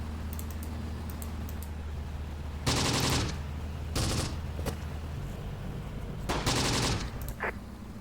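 Bursts of automatic gunfire and explosions from the WW2 North African Campaign battle in the video game Close Combat: The Bloody First, arriving in three or four clustered volleys over a steady low background rumble, with no talking.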